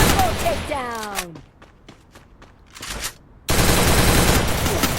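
Gunfire in a shooting video game: rapid bursts of shots crackle through the first half, then a brief lull, and a dense, loud wash of noise returns at the end.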